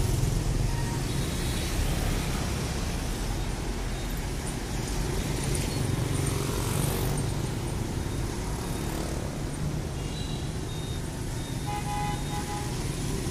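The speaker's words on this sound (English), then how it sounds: "When you get on the bridge, you can enjoy local traffic and see how it works in here." Continuous rumble of motorbike and car traffic crossing the 120-year-old Long Bien bridge in Hanoi, a dense steady roar of engines with occasional faint horn-like tones over it.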